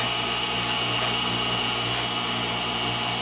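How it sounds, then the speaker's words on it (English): A milling machine climb mills a groove, widening it and cleaning up the back face on a homemade grinding wheel balancing fixture, giving a steady, loud whir with fine rapid chatter throughout and no talk. "So I'm cleaning up the back face, widening this groove, climb milling it."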